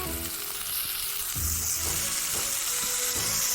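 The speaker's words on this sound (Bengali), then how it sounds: "ভালো করে ধুয়ে তারপর ওই ফোড়ন তেলের মধ্যে সবজিগুলোকে ছেড়ে দেব।" Vegetables slide into hot tempering oil in a home kitchen and set off a loud crackling sizzle that swells and stays steady, with light clinks of a pan beneath the spitting.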